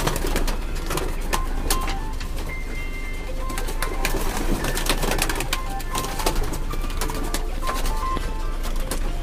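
Flying pigeons kept in a loft near green woodland coo steadily in a dense chorus, close and fairly loud, with scattered rustles and wing sounds and no talk.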